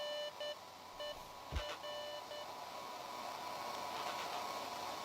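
A walkie-talkie in the video game Beacon Pines gives out short, evenly spaced electronic beeps over a constant wash of hissing static, with one sharp crackle partway through.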